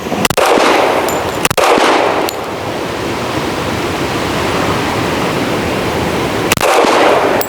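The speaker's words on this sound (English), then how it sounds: "let's shoot some more. All right, let's go super slow. I'm gonna aim for the top of the target." A few sharp gunshots aimed at a steel target crack out at irregular intervals over a loud, steady roar of broadband outdoor noise.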